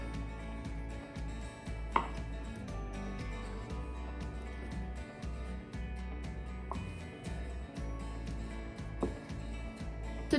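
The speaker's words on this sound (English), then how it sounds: "time to now cut the paneer into cubes and the pepper" A knife chops paneer and pepper into cubes on a cutting board, a steady run of quick, close taps with occasional sharper knocks, heard alone without talk.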